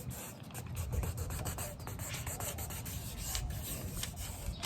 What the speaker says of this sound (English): Burnish it down well